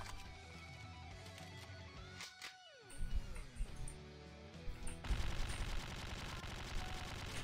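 Bursts of gunfire in the horror game Slendytubbies 3, rapid sharp shots over game ambience, growing louder and denser toward the end.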